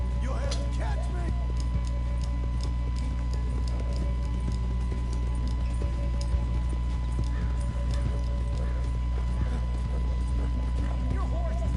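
Horse hooves clip-clopping at a steady run in Red Dead Redemption II, with occasional whinnies, a constant rumble and game music underneath, and voices talking over the hoofbeats throughout.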